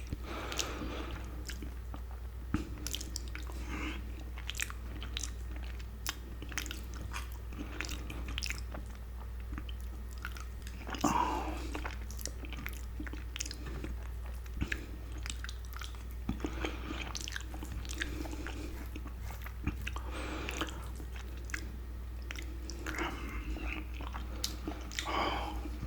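Close-up, steady chewing and biting of chicken noodles coated in cheese sauce, with soft wet squishes and occasional crunchy bites repeating throughout, recorded near the mouth over a low constant hum, with no talking.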